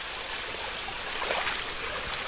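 Spring water from a roadside spring called Veselye Rodnichki streams and trickles steadily, a close, even gurgling flow with no pause.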